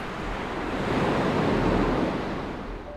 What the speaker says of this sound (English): the waves are crystal clear and super clean